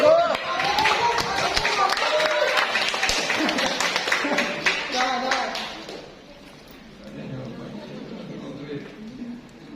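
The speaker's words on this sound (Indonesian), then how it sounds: "kita beri tepuk tangan dulu dong" Clapping from a studio audience at an Indonesian Q&A show, dense and lively for several seconds before thinning out, with a voice talking over the tail end.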